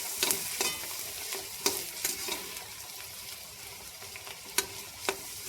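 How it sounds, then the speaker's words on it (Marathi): Onion, garlic and ginger sautéing in a pan for a dill leaf vegetable dish, a steady close sizzle broken by repeated sharp stirring scrapes and clinks, no voices. "आपला कांदा लसूण आलं छान व्यवस्थित परतून घ्यायचं"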